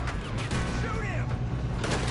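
Gunfire in Red Dead Redemption 2 rumbles through a dense, noisy battle scene, with scattered shots and booms blended into constant background din while voices shout over it.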